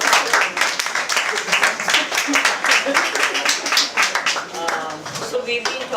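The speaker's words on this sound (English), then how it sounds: "Ladies and gentlemen, a big round of applause for Bhatt," A comedy club audience claps and applauds loudly for a comedian, dense continuous clapping that fades slightly near the end.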